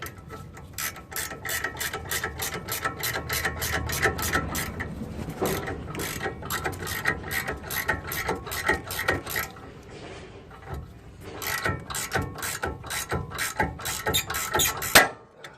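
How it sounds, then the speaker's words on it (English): A ball joint separator is worked on the lower ball joint of a 1999 Toyota Tacoma, giving rapid, loud ratcheting clicks in bursts with brief pauses, close up and without speech. "got our ball joint separator there. Gonna go ahead, break this guy off, just like the other side."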